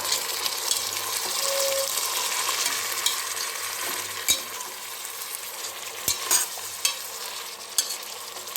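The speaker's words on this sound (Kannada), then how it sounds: "ಹಾಗೆ ಬಟಾಣಿ ಕೂಡ ಸೇರಿಸ್ಕೊಂಡು ಒಂದು ಸರಿ ಚೆನ್ನಾಗಿ ಮಿಕ್ಸ್ ಮಾಡ್ಕೊಳ್ಳೋಣ" Peas, onion and mixed vegetables stirred in a pan for vegetable pulao, a steady soft sizzle with scraping spoon strokes and a few sharper knocks, close and continuous with no talk.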